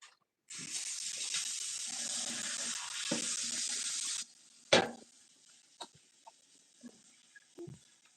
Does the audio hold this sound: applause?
no